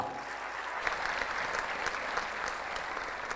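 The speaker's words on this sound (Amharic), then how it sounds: "እባካችሁ በድጋሚ ሞቅ ያለ ጭብጨባ።" An audience applauds quiz contestants at a student competition with steady, dense clapping from many hands, fairly loud and sustained throughout, with no voices over it.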